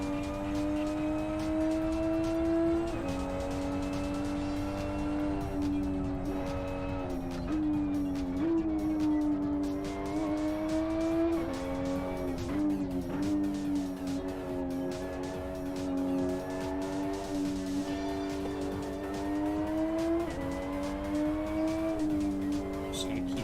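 Several race cars lapping in the Live for Speed racing game with modded cars, their engines droning and shifting pitch continuously and loudly through a long endurance race, with occasional tire noise.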